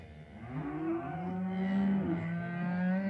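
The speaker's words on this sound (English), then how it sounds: "Mama cow's over here." Cattle at a livestock sale day let out a long, loud, close moo lasting a few seconds, deep and droning, with fainter animal calls behind it.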